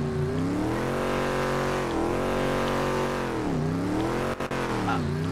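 Engine of a car driven in the FiveM game drones steadily and loudly throughout, pitch sagging and climbing as it revs up and down, with a brief dropout near the end.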